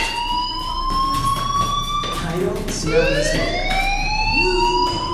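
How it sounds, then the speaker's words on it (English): A fire alarm in the Life is Strange video game wails with rising, sweeping siren tones that repeat steadily and loudly over a muffled background of game sounds. "do you hear that fire alarm? That means you should be outside."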